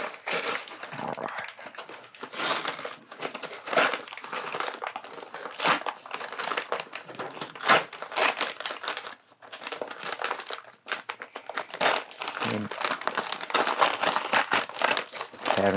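Plastic blister packaging of a Marvel Legends action figure being opened by hand, with loud, continuous crinkling and crumpling punctuated by sharp tearing bursts, close up, with occasional brief speech.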